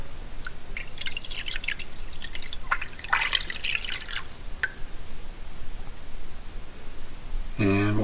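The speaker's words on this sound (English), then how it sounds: "So I'm pouring in the water." Water pours and splashes into a cast iron pan on an induction cooktop, bursts of bright trickling and dripping at close range, ending with a short tonal beep.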